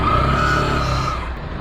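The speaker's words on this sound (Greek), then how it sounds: "Πολύ κίνηση αλήθεια." A car passes in busy road traffic, its tire and engine roar loud at first and then fading as it moves away over about a second, heard alone.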